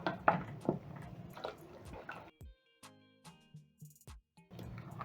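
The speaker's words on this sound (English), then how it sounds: "you're going to add in 1 cup of milk as you stir" Milk is stirred into white porridge in a pot, giving soft, wet squelching and sloshing strokes in close, irregular bursts with a few quiet pauses between them.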